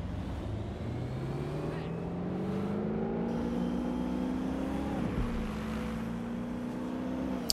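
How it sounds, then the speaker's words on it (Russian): Engine revving in the video game Watch Dogs: Legion, a steady droning motor whose pitch climbs and settles over several seconds, with a brief dip near the end, under faint background talk. "Я просто газую, я испытываю удовольствие от того, как я газую."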